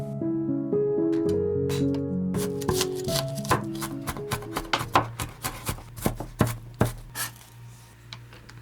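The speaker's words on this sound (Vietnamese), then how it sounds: "Tỏi thì mình băm nhuyễn nha." Quick knife taps mincing garlic on a cutting board, starting sparse and speeding into a rapid clatter, with soft background music at first.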